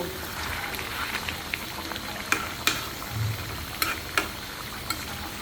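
A pan of big koi fish curry with sponge gourd bubbles and sizzles softly while a spoon scrapes and clinks against the pan now and then, faint and steady.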